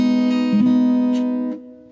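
A minor chord strummed on the bottom three strings of a classical guitar, a single sustained strum ringing clearly and alone before fading out.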